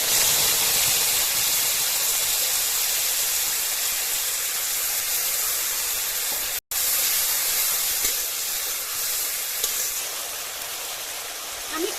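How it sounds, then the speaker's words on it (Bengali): Mixed spice paste hits hot oil with nigella seeds while cooking fish curry, a loud, broad, continuous sizzling hiss that fades slightly toward the end, with a brief cut partway through. "মিশিয়ে রাখা মশলাটা তেলে দিয়ে দেব"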